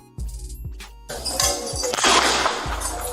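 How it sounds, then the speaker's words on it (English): Gunfire captured on a police body camera during an armed confrontation with officers and rooftop snipers, heard as sharp repeated low thumps at a steady rhythm, with a loud burst of broadband crackle and clatter building midway. "There's a gunshot."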